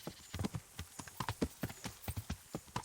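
Horse hooves clip-clopping in the medieval video game Kingdom Come: Deliverance, a quick, uneven run of faint hollow thuds at a walking pace.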